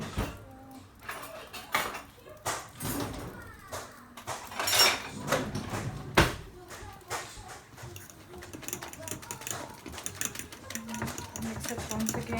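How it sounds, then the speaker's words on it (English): Egg mixture for an omelette with black pepper and chili flakes is stirred in a bowl, giving quick, continuous clinking and tapping at a low, close-up level throughout. "mix it once again so that no black pepper or chili flakes are settling down"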